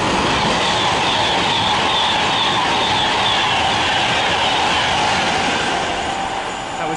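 A Class 390 electric train passes through Milton Keynes Central station on a Birmingham New Street to London Euston service, a loud, sustained rush of wheels and air with steady rail rumble that fades slightly at the end.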